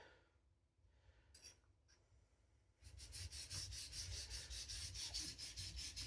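A gyuto chef's knife is drawn across a whetstone, starting with faint, scattered scrapes and then settling into a quick, regular run of close rasping strokes that grow louder and keep an even rhythm.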